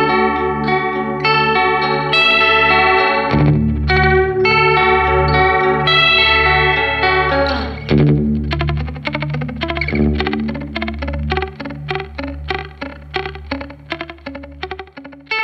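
An electric guitar runs through an EarthQuaker Devices Rainbow Machine pedal set for an ambient chorus, its time slowly shifting: lush sustained chords swell and shimmer, then give way to a stream of bright plucked notes, loud and alone.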